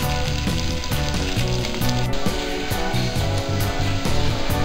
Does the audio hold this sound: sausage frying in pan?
yes